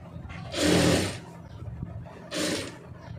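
A sewing machine stitches a blouse strip in two short bursts, a longer whirring run and then a brief second one, close up with quiet pauses between.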